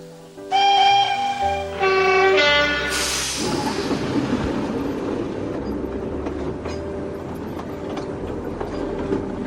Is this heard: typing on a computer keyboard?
no